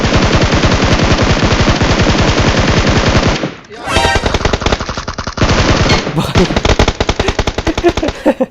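Rapid automatic gunfire in the mobile battle royale game BGMI, loud and close, in long sustained bursts broken by short pauses.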